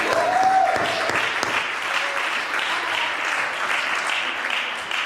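A church congregation applauds to acclaim the Lord during a seminar service, sustained dense clapping from a large crowd that stays steady and loud, with a few voices rising over it.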